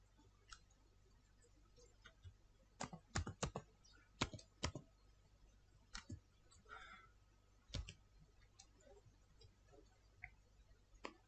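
Keys tap on a computer keyboard while a command is typed into a Windows run box: sparse, irregular clicks with a few quick clusters, close and fairly soft over a quiet hum.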